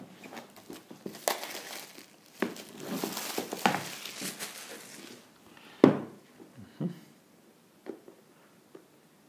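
Scissors cut and crinkle through protective foil on the box of an iPad Pro Smart Keyboard Folio, a close series of irregular crackles, snips and rustles that thin out toward the end.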